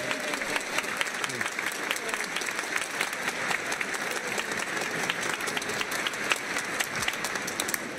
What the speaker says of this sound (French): Est-ce qu'on peut applaudir Jésus?